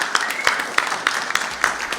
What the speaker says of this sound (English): Round of applause for the band